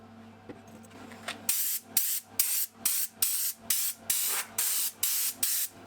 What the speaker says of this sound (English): Before applying a finish, I blew away as much of the dust as possible.